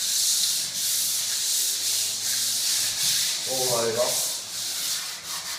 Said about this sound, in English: Just do a very light denib